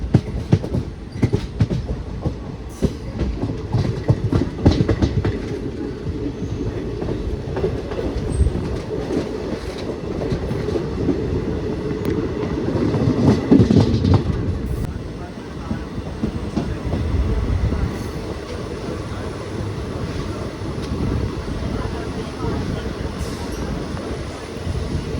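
A passenger train on the Nilambur–Palakkad line rolls along with continuous rumble and rhythmic wheel clatter heard from inside the carriage, swelling briefly midway, with a faint squeal and occasional voices in the background.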